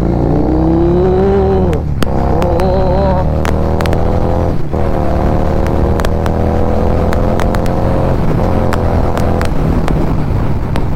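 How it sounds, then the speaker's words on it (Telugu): A Harley-Davidson Street 750 motorcycle accelerates, its engine note climbing in pitch through the gears under heavy, constant wind rush at the microphone. It is loud and close, with brief dips between gear changes. "ఒక్కసారి ఇప్పుడు డ్రైవ్ చేస్తా సీదా పవర్, అసలు పవర్ కాదు టార్క్ చూడండి."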